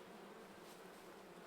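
Honey bees buzzing at an open hive, a steady, close, dense drone that holds evenly throughout with no talk.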